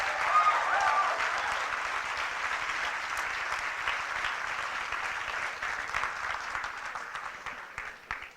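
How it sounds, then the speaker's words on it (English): Sustained audience applause at a conference lecture, a dense steady wash of clapping from many hands that holds throughout and tapers slightly toward the end, with no speech over it. "Another round of applause for Dr. Marc Lamont Hill, please."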